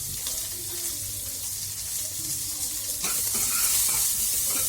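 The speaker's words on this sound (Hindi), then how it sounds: "उसमें हम थोड़ा सा जीरा डालेंगे, फाइनली चॉप प्याज एंड हरी मिर्च डालेंगे उसमें" Finely chopped onion and green chili fry with cumin seeds in hot oil, a steady close sizzle that swells louder near the end as stirring stirs up the pan, with no talk.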